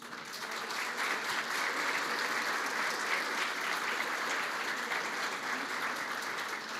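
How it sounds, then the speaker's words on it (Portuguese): Steady audience applause at a business lecture event, a dense continuous clapping from a crowd lasting several seconds at an even level, with no speech over it. "por favor, uma salva de palmas."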